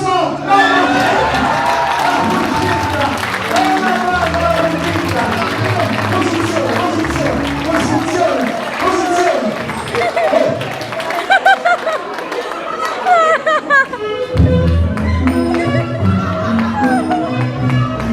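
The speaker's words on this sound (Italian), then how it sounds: "applauso" Audience at a wedding reception claps and cheers after a dance performance by a group in tutus, the applause spreading through a chattering crowd for several seconds before dropping off.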